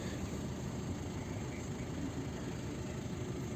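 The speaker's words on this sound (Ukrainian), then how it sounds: "Двигун у нас вже практично прогрівається до 90." A 2011 VW Touran 2.0 TDI diesel idles almost warmed up, giving a steady low rumble that holds even and unbroken with no other sounds.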